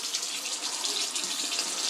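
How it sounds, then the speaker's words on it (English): Steady cold tap water pours through a Berkey gravity water filter being primed, a continuous bright rushing hiss with no pauses. "and we run some water through"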